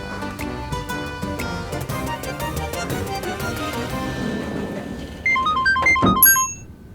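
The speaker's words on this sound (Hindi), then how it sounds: "सेतु, मैं तुझे ही फोन करने वाली थी" A melodic phone ringtone chimes out a rising and falling tune over background music, ending abruptly after a couple of seconds.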